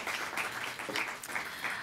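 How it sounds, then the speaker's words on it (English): Audience applause for a speaker at a public talk, steady moderate clapping from a crowd, heard at a slight distance throughout. "Let's give her a round of applause."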